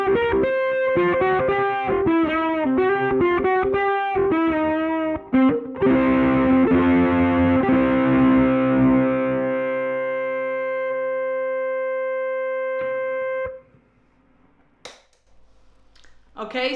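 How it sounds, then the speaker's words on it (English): Ukulele played through a Kmise US Dream distortion pedal with the distortion turned up, giving loud, buzzy, sustained chords and picked notes that ring into feedback-like tones, then stop abruptly with a few faint clicks. "that gives us an idea of the US Dream distortion pedal"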